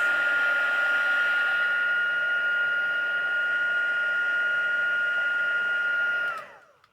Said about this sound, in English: Yes, with the heat gun.